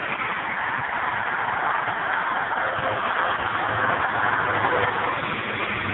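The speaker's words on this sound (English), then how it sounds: "If you want to see the 401, which is like the major highway in Ontario," Dense, continuous roar of heavy traffic on Highway 401 in Ontario heard from a pedestrian bridge above, a steady broadband wash of tires and engines with no pauses.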